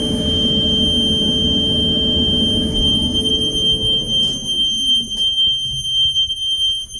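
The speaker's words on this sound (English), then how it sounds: "Set off the fire alarm." A shrill, constant fire alarm tone sounds loudly over a low clothes dryer hum that winds down partway through; the dryer is not vented.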